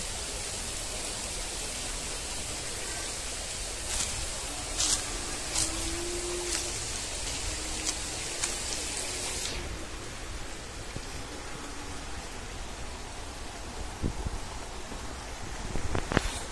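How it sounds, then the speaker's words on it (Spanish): Steady rushing of a river running low on water, a constant broadband wash with faint chirps sitting above it. "aquí hay un río también"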